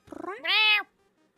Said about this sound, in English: the stream just devolves into cat noises